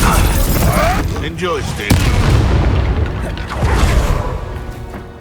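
The Confringo fire spell bursts in Hogwarts Legacy with booming, crackling explosions and rumbling debris over several seconds, mixed with character voices speaking over the blasts.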